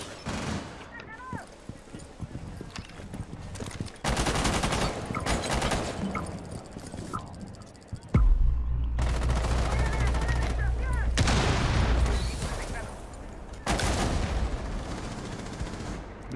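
Gunfire in a Rainbow Six Siege match, loud bursts of automatic shots broken by quieter gaps, with a deep sustained rumble mid-way and players talking over the action.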